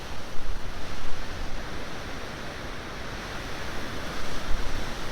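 Steady broadband wind roar with gusts swelling and easing, a constant outdoor wash of wind and rain noise, at the water while fishing.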